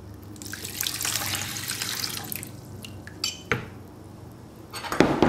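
Water pours and splashes into a bowl for a few seconds while making baguette dough, followed by a couple of sharp clinks and a brief trickle at the end.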